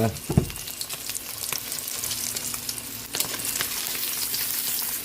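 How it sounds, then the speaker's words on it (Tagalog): Dalagang bukid fish frying in hot oil, a steady close sizzle with crackling pops throughout and a sharper burst near the start. "Hangoy na natin yung ating pritong isdang dalagang bukid."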